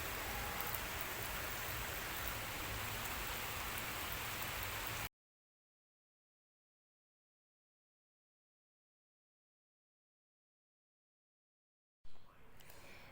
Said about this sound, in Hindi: ताबड़तोड़ बारिश।